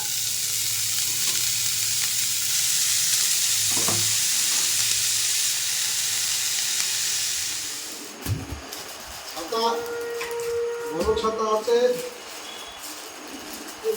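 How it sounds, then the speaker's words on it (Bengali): Leafy greens with garlic cooking in a pan sizzle loudly and evenly for several seconds, then the frying fades as a person starts talking and clattering noises follow. "তো অলরেডি আমি এখানে শাকটা রান্না করতে বসিয়ে দিচ্ছি।"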